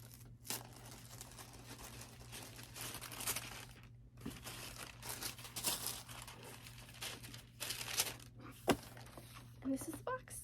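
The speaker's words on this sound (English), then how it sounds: "Gonna take off this thank you sticker." Thank-you sticker peeled off and tissue paper unwrapped from a bridal subscription box, giving soft crinkling and rustling with small taps, close and moderately quiet, under a steady low hum.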